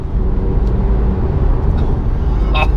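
Inside a BMW 1M on rough roads, a low, heavy rumble of engine and road noise fills the cabin at a steady level, with a brief higher squeak near the end.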